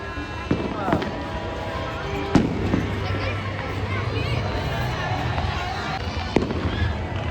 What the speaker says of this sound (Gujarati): જો બધી બાજુ ફટાકડા ફૂટે છે આ બાજુ